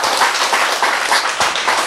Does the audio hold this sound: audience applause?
yes